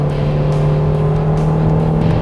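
Steady loud roar of an Italian four-seat supercar on a race track, a constant engine drone heard close up from on board for a couple of seconds.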